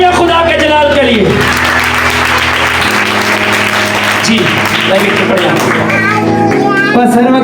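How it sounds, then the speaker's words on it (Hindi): A church congregation breaks into loud, sustained applause during a service. Dense clapping fills the whole stretch, with voices calling out over it. "ज़ोरदार तालियां खुदा के जलाल के लिए"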